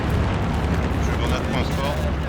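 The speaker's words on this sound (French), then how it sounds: "Une grenade." A grenade explosion in the World War II shooter game Hell Let Loose: a loud, rumbling blast that fills the whole clip, with players talking over it.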